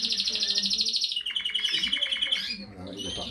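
Breeding canaries in an aviary singing loudly and close, with rapid trilled phrases that shift pitch partway through, several birds overlapping in continuous song.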